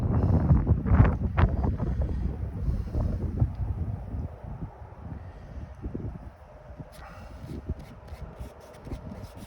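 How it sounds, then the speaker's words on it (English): Strong wind buffeting a microphone outdoors during a painting session, a loud low rumble that eases midway, with faint clicks and rustles toward the end. "It's very windy"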